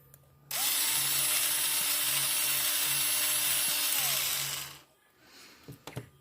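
A cheap little $15 electric drill whirs loudly and steadily at close range for about four seconds, with a faint pulsing hum, then winds down to quiet handling noises.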